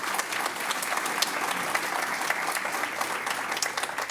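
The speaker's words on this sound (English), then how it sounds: "Let's give them a round of applause." Steady applause from an audience at an evening school board meeting, a dense, continuous patter of many hands clapping at even loudness throughout with no talk over it.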